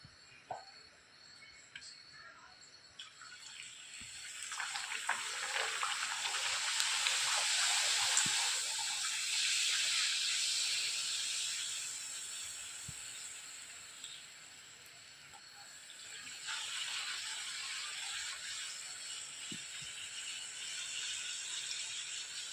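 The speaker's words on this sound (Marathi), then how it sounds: "तेलही आपले छान गरम झालेलं आहे मीडियम फ्लेमवरती आता आपल्याला सर्व पुऱ्या तळून घ्यायच्या आहे" Puris deep-frying in hot oil over a medium flame, a steady broadband bubbling sizzle that swells and eases in waves, loud and continuous with no voices.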